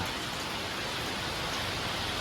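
Steady rain falls in a dense, even hiss with no breaks or voices.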